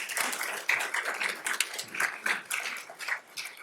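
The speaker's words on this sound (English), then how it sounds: "Give Max a round of applause, please." Audience applause at a Black History Month celebration evening event, a roomful of people clapping steadily and fairly close, with a few sharper claps standing out, no talking.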